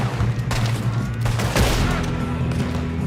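Dense burst of gunfire from a shootout in the video game Red Dead Redemption 2, with loud overlapping shots and a booming blast mid-clip over steady game music, no talk.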